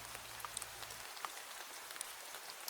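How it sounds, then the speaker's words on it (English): Steady, faint rain falls outside with a soft hiss and scattered light drop ticks. A low hum is present at first and then stops. "The rain outside roars in my ears like an ocean."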